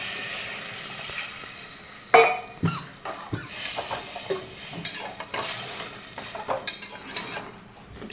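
Water poured into a hot pan of vegetarian food, giving a sharp burst of sizzling that settles into steady frying crackle with stirring and utensil clinks against the pan.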